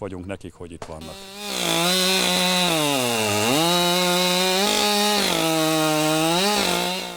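Chainsaws cut firewood during a volunteer wood-gathering effort in a village, a loud continuous engine whine that rises and dips as the blade bites, close up, after a moment of talk.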